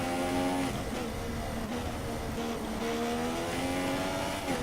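An F1 race car in the F1 2016 video game revs hard with a loud, high, droning engine whine that holds near constant and shifts slightly in pitch as it runs in a slipstream.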